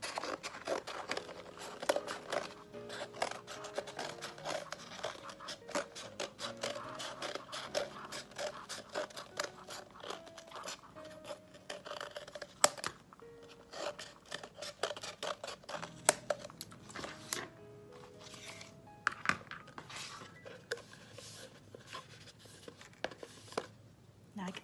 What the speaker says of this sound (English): cut the excess cardboard